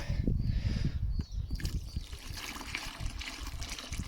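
Water is poured from a container onto mortar mix on a mixing board, a close, quiet trickle and splash that runs for a few seconds with small sloshing changes.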